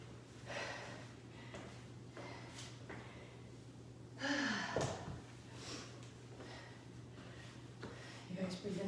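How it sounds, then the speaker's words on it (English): Hard breathing from a person during a live strength and stretch workout class, with quiet repeated breaths and gasps, a faint steady hum underneath and a sharper breath burst midway. "You guys breathing hard? I am."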